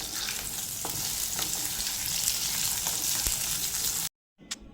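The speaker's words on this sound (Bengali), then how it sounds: "আলুগুলোকেও দু তিন মিনিট একটু লালচে করে ভেজে নেব" Potato pieces frying in oil for a pumpkin curry, giving a steady, dense sizzle with a few crackles and spits, loud and continuous, then cutting to near silence just before the end.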